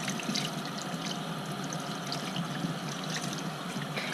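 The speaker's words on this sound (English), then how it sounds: "Now I'm going to start the rinsing process." Running tap water rinsing synthetic and natural makeup brushes at a sink, a steady, fairly loud splashing hiss that continues without pause, with faint irregular spatters from the bristles and no speech.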